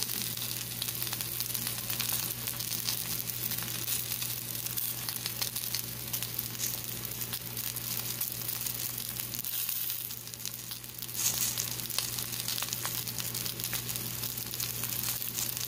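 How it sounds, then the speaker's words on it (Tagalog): Two eggs frying in a pan with salt and pepper, giving a steady, close sizzle with faint crackles throughout and a brief dip midway before the hiss resumes. "2 eggs in one time cooking"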